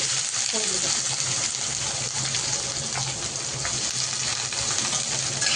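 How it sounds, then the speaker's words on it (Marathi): Onion frying in oil with garlic and mustard seeds produces a dense, loud, constant hiss and crackle close up, with faint stirring movements mixed in. "कांद्याला चांगला परतून घ्यायचा, चांगला परतून त्याला ठेवून द्यायचा"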